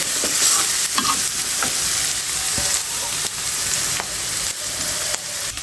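Spiced pona fish with taro stolons stirred and frying in a pan: a steady, loud hissing sizzle with scattered scraping stir strokes and light clinks throughout, close up, with no talk.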